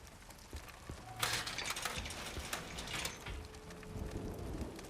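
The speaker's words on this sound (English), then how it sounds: "Oh, that's the scaffolding sound." Scaffolding in the Resident Evil 9 video game gives off metallic rattles and clanks, a burst of clattering impacts mid-way among ratchet-like creaks, fairly close and without talk.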